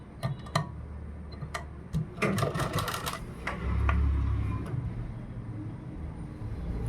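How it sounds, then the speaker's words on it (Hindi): A sewing machine runs a line of stitching along the flared lower panel of a kurta cut from dupatta fabric, giving quick clicking ticks that speed into a dense burst before a low motor hum, with no talking. "इसमें हम इस तरह से पूरे में सिलाई लगाएंगे"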